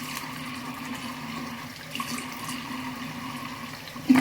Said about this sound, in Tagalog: Maghihilamos muna ako ng aking face.